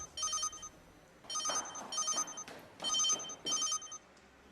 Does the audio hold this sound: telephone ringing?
yes